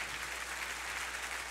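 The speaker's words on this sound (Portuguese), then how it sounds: "Pode aplaudir, se é para Jesus, pode aplaudir." Steady, dense applause from a church congregation, a continuous crackling patter of many hands clapping with no break, and no voices coming through.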